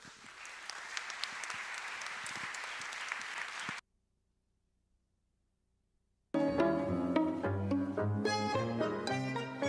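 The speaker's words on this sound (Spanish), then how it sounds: "Les pido por favor un fuerte aplauso a Jesús Martín Barbero" Panel audience applauding for Jesús Martín Barbero, a few seconds of steady clapping that cuts to silence, then loud music takes over.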